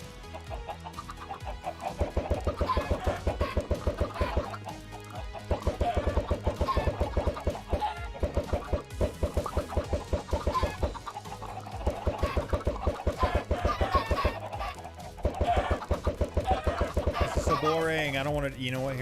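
Many chickens in a Minecraft-style survival game cluck in rapid, overlapping bursts, a busy, steady flock chatter that pauses briefly a few times before picking up again.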